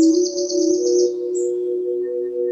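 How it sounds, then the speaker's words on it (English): Birds chirp in a rapid, bright trill for about a second, then a short extra tweet, over sustained soft tonal drones during a restorative yoga session. "birds singing."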